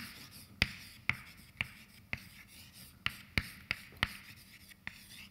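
Chalk tapping and scratching on a blackboard during a physics lecture on strange metals and black holes, a series of sharp, fairly quiet strokes at an uneven pace with faint room noise between.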